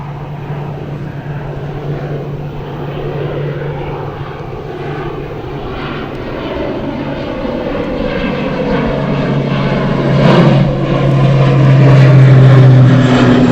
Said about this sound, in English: Organi Air Services taking off right now to Guernsey.